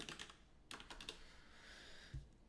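Quiet, close keystrokes on a computer keyboard come in two short bursts with a pause between, and no one speaks.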